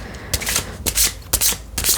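Tarot cards are shuffled close up in quiet surroundings, making repeated crisp riffling bursts about every half second with soft rubbing between them.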